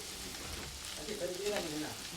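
Samosas sizzle and crackle steadily in hot oil, a continuous soft frying hiss close by, with faint background voices.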